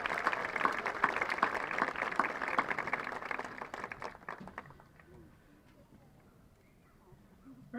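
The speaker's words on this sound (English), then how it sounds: "Another round of applause for both our musical groups." A high school graduation crowd applauds the class of 2022 instrumental musicians. The dense clapping is loud at first, then thins out and fades away over several seconds.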